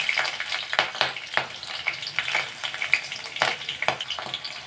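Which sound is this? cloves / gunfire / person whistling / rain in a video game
cloves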